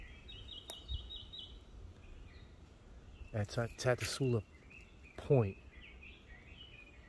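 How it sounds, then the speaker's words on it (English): Birds in the Hawaiian forest at Tantalus lookout give soft repeated chirps and a thin, steady high call under a man's clear speech, with faint insect hum behind. "You can hear the beautiful birds chirping."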